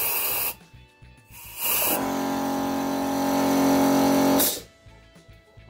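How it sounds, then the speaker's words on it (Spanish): A loud hissing blast cuts off, then an air compressor motor hums steadily for a couple of seconds before stopping, with light clatter around it, in a motorcycle valve-grinding workshop. "Vamos a apagar el compresor."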